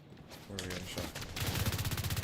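Gunfire from The Division 2 in a PvP fight, rapid regular bursts of shots rising toward the end, loud and close, mixed with game noise and a voice.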